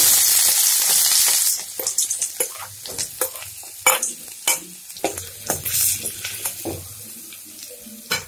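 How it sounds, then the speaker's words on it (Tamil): Onions hit hot oil in a pan for a cauliflower egg poriyal, starting with a loud, steady sizzle that gives way to repeated scraping stirs over a softer fry. "எண்ணெய் சூடானதும் வெங்காயம் போட்டுக்கலாம்."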